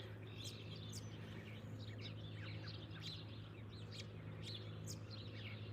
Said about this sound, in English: I hope you can hear all of these birds.